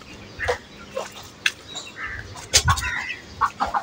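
Chickens cluck in short scattered bursts nearby, mixed with light scratching and fluttering, fairly quiet overall.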